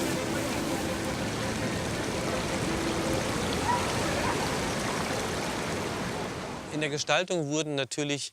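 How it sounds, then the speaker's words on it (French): A fast stream in Munich's Englischer Garten rushes steadily and fills the scene with a broad, close, continuous roar, which breaks off near the end as a voice narrates. "Les cours d'eau rapides sont plutôt rectilignes et s'écoulent rapidement vers l'extérieur du parc."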